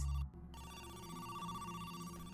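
An in-game telephone rings in a video game, a steady sustained ring that follows a brief louder burst at the start, with no talk over it.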